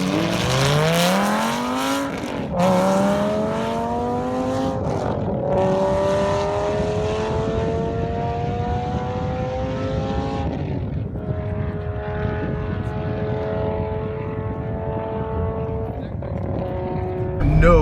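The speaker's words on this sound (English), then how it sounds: "I didn't realize it was going to be the world's loudest car." A Lamborghini Huracan with a loud straight-piped exhaust roars nearby, its engine climbing through several revving pulls and gear changes, with people talking over the noise.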